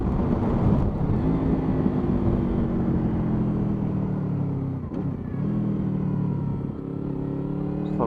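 Car engines and tyre roar from road traffic, several vehicles passing close with steady rumbling and rising and falling engine tones, no voices.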